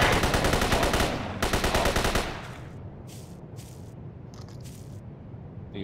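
Video game gunfire, a loud rapid automatic burst that stutters and resumes for about two seconds before giving way to faint scattered noises, no speech.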